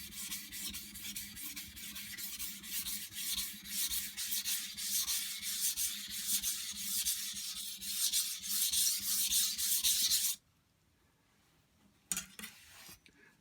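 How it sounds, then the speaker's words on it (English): Knife blade being thinned on a sharpening stone after 220 grit work, a steady rhythmic gritty scraping for about ten seconds, close, then stopping before brief light strokes resume. "I'm going to just reduce some of those scratches that I put in from the 220 grit stone."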